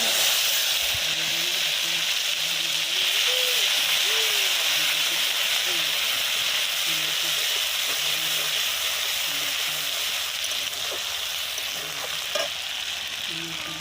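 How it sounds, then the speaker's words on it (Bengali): Nigella seeds, chilli and onion fry in oil in a karahi with a loud, continuous close sizzle and hiss, while a person talks softly underneath. "এবার এর মধ্যে দিয়ে দেবো কালো জিরে, লঙ্কা ও পেঁয়াজ"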